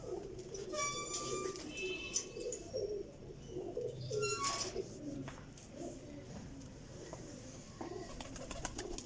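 A golden cross pigeon coos in low, repeated throaty rolls close by, with a few sharper chirps from other birds layered over a busy loft background.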